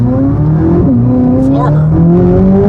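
Chevrolet Corvette Z06 with the Z07 package, engine held at a steady loud drone with a brief rise partway through, as if given moderate throttle, with voices talking over it inside the car.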